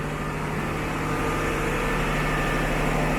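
Engine room machinery aboard a ship, a loud, constant mechanical drone and whine filling the space with no breaks.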